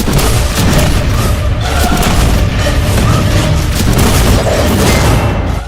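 Loud, continuous rumbling blasts roll on without pause, a dense wall of booming explosions filling the whole stretch.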